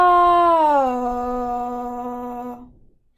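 A single sung "ah" vowel gliding in pitch as a voice exercise for Parkinson's disease, one sustained tone that bends then holds steady before trailing off, alone and clear.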